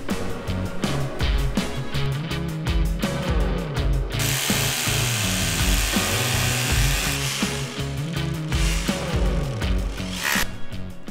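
Power drill whirring in repeated bursts, drilling holes in a greenhouse with a steady grinding and clicking rhythm, close and loud, with a longer continuous run in the middle.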